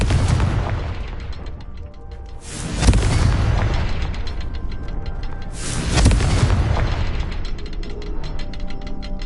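Confringo fire spells burst twice in Hogwarts Legacy, each a loud booming blast rising over a steady mechanical, ratcheting game soundscape, with no talk.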